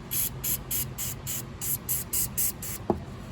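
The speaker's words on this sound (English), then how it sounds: "So I'm going to use just some basic spray lubricant." Short, rhythmic bursts of aerosol spray lubricant hiss about ten times in a steady pattern, close by, onto a jammed Oreck XL vacuum, followed by a small knock at the end.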